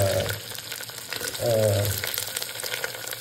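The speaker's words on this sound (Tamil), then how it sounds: "கறி லீவ்ஸ் போட்டு தாளிச்சிட்டு அது கூட ஒன்றாவே க்ரீன் சில்லி, ரெட் சில்லி" Curry leaves with green and red chillies sizzle in hot butter, a steady close frying hiss with brief swells, and faint voice traces in the background.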